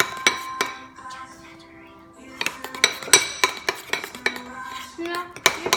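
Slime being stirred with food coloring in a bowl, giving a run of close clinks and scrapes of a utensil against the dish, sparse at first and then quicker, with no talking.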